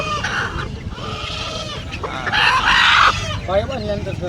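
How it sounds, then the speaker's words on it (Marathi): Hen with her chicks at a village livestock market where country chickens, rabbits and pigeons are sold; high chirping and clucking bursts rise over steady crowd chatter and nearby talking. "ही कोंबडी आहे ना बाकी तिचे पिल्ल आहेत"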